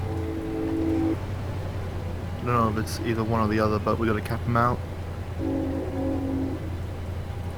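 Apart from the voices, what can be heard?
train passing near railway tracks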